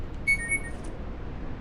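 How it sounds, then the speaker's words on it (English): A mobile phone gives a short electronic alert of two quick high beeps and a faint trailing chime over a low background hum. "Sorry about the noise from my phone."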